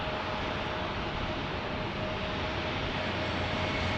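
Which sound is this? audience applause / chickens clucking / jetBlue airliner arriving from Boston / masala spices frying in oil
jetBlue airliner arriving from Boston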